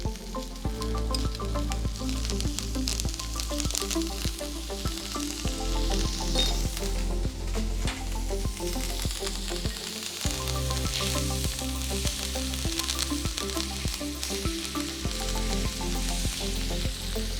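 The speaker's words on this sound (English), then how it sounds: "We are going to add butter into this, and we are going to bake it, sear it on all of the sides" Prime rib-eye beef sears in butter in a hot pan, a constant close sizzle and crackle running throughout under steady background music.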